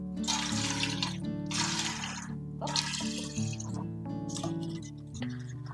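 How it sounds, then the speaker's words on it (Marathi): About four cups of water pour in several bursts, splashing into a cooking pot, with steady background music playing throughout. "या पातील्यामध्ये सुद्धा आपण चार कप पाणी ओतून घेणार आहोत"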